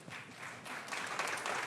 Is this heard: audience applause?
yes